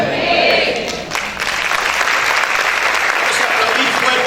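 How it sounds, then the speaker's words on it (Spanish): A church congregation claps loudly in praise, a dense, sustained wash of applause that fills the hall from start to finish, with scattered voices and shouts mixed into the clapping. "¿cuántos pueden aplaudir fuerte al Rey?"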